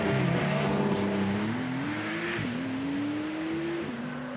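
A Porsche 911 GTS sports car accelerates, its engine loud and near, the pitch climbing through gears with brief dips at shifts, with no talk over it.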